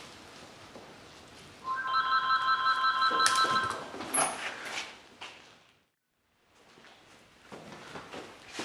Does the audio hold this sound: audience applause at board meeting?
no